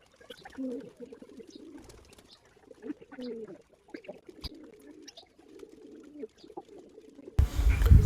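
Caged pigeons kept indoors alongside quail coo in low, rolling murmurs through most of the stretch, with scattered soft rustles and a louder burst of handling noise near the end.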